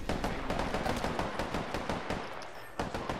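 Rapid automatic gunfire in Apex Legends, a steady burst of sharp close shots hitting the player, easing slightly near the end before a final crack.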